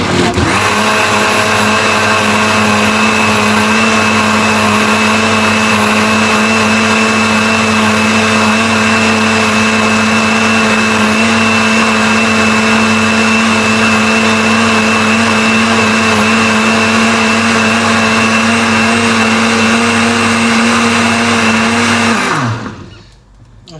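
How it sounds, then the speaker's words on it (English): A Ninja blender whirs loudly and steadily for over twenty seconds with a constant high motor whine, then cuts off abruptly at the end. "I'm gonna blend it a little bit more just to make sure it's smooth"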